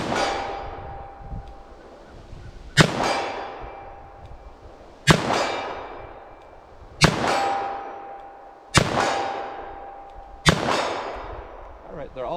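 .357 Magnum rounds strike steel targets from 40 yards away, giving six sharp metallic clangs at steady intervals of about two seconds, each one ringing out and fading before the next.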